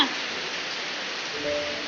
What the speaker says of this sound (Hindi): वर्षा